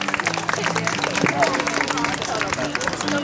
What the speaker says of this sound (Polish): Brawa dla tej pary.